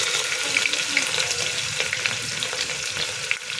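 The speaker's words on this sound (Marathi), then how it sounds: "कांदा छान परतून थोडा लाल होऊस्तर परतून घेते." Chopped onion sizzles and fries in hot oil in a pressure cooker with a bay leaf and cinnamon, a steady close crackling hiss with small pops and occasional stirring scrapes.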